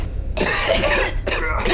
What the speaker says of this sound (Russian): Мне нравится, как мы кашляем еще